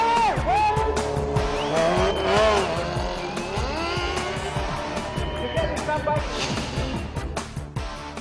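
Race cars lapping a track at MRF Formula Championship saloon and superbike races, engines screaming and shifting with tires squealing, loud and close, with a voice talking over them.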